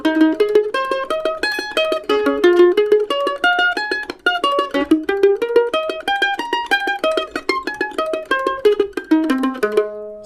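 Monroe-style mandolin picks steady staggered 16th-note arpeggios, bright rapid plucked notes rolling continuously across chords, close and alone.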